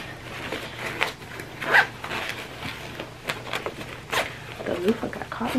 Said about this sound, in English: Oof, I got caught in the zipper.